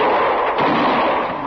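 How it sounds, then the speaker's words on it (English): A single loud gunshot rings out in a Western radio drama, with a booming report and a reverberant tail that fills the whole short moment, no voices over it. "she's gone and shot Lonnie Pike."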